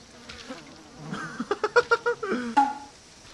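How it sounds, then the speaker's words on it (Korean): A swarm of gnats buzzes close around the player in the VR video game Resident Evil 7, rising into a string of rapid, whiny pulses that sound near and fairly loud against a quiet background. "입에 다 들어오는 것 같아 날파리 미친놈들"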